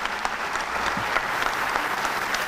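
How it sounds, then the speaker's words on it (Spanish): Theater audience applauding at an open neuroscience talk, steady dense clapping that fills the room at a moderate level with no voices on top. "voy a pedir un aplauso para él realmente"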